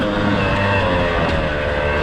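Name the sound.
2019 Beta 250RR dirt bike engine revving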